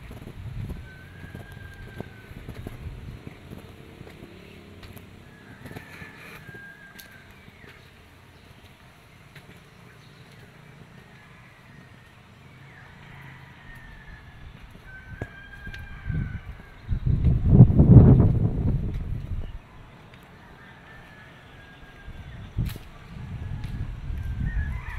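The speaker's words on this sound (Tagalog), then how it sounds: "Hangin guys, hangin." Wind gusts buffet the microphone outdoors at Tayabo nature park, a low rumble swelling into one strong blast midway, with faint birds and distant ambient sounds around it.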